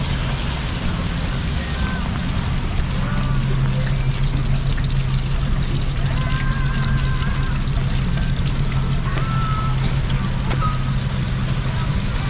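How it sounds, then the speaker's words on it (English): Heavy rain pours steadily outside McKinley Wilderness Lodge in Alaska, a loud, unbroken wash of sound with a few faint tonal chirps over it. "We've definitely seen the rain here."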